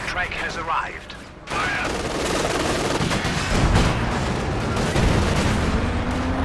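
Gunfire and explosions in a video game match, a dense, rumbling wash of shots and blasts running under continuous excited commentary.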